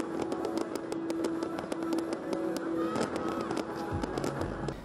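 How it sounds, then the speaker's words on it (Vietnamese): Fireworks launched over the Han River in Da Nang during a Canada-France display, heard as a rapid series of sharp cracks and bangs over a steady crowd and engine hum. "tất cả đèn đều tắt khi pháo hoa được bắn lên bầu trời."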